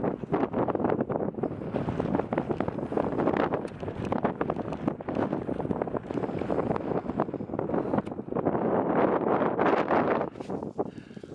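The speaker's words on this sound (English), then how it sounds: "Bloody wind up here. It's fierce." Fierce wind on an exposed mountain in the Brecon Beacons roars steadily into the microphone, loud and unbroken buffeting with gusting surges throughout and no talking.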